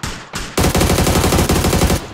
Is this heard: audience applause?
no